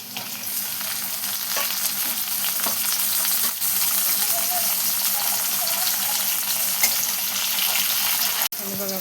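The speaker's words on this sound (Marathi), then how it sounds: "त्याच्यात आपण एक टमाटर टाकून घेणार आहे बघा." Tomato frying with cumin and green chili in a hot pan, a loud, continuous close sizzle with occasional stirring scrapes and a sharp clack near the end.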